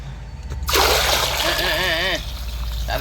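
Water poured into a pot while cooking sambar in a home kitchen, a loud close splash and gurgling stream lasting over a second, then fading to light trickles.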